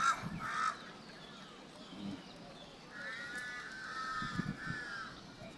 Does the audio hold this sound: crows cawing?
yes